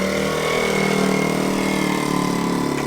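A Polaris Outlaw 50cc ATV engine idles steadily to warm up, a continuous small-engine putter with an even rhythm, close and fairly loud, with no talking.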